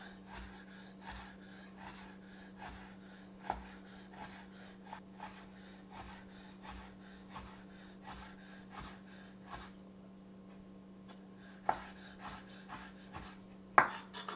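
A knife quickly dicing eight pieces of par-cooked bacon, producing a long run of soft, rhythmic chopping taps with a few sharper knocks, all over a constant low hum.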